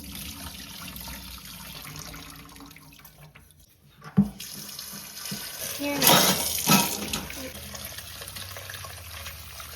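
Soaking water poured off a batch of black grapes being prepared for homemade grape wine, a splashing gush in the middle of a low steady running-water background, with no voices.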